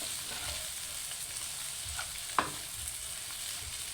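Boiled potatoes and eggs being stirred through hot oil and gravy for an aloo anday pyaz salan, a steady soft sizzle with one sharp scrape of the spoon midway, no talking.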